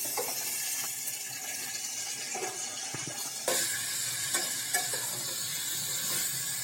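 Chopped ridge gourd (jisoda) sizzling in a hot pan as it is stirred, a steady close frying hiss with occasional scraping clinks of the spoon against the pan.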